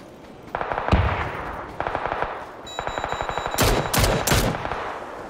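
Automatic gunfire in the PUBG battle royale game, fired through smoke: rapid bursts of loud shots in quick rhythmic strings, ending with several heavy, booming hits close by.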